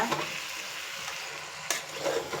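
Vegetables for a veg pulao fry in a pan while being stirred, a steady close sizzle broken by scraping strokes of the spoon, with no voices.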